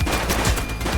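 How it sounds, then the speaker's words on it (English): Gunshots in The Precinct police game, a quick burst of several loud, close shots packed into a single second. "Shots fired!"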